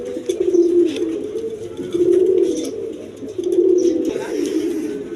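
A pair of high-grade satinette pigeons coos nearby in three distinct, throaty rolling phrases separated by short pauses, fairly loud against a quiet background.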